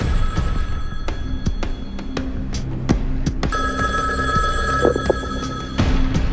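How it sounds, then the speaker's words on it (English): A house telephone rings with repeated bell tones over a steady background hum, loud and close, with no talking. "The phone rang"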